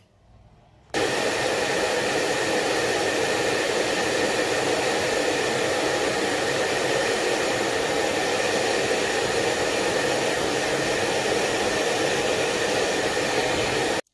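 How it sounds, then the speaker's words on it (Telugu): A hair dryer on its cool setting blows steadily on makeup brushes, a loud, even whoosh that starts abruptly after a second of quiet and holds unbroken to the end. "ఇలా మీ దగ్గర డ్రైయర్ ఉంటే కూల్ మోడ్లో పెట్టి ఎయిర్ డ్రై చేసుకోండి."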